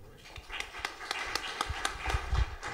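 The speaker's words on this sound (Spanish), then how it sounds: "Vamos a dar un fuerte aplauso al doctor." Audience applause at a talk on aerospace technology for seismic prediction, a fairly faint, diffuse patter of many hands clapping in a room with no voices over it.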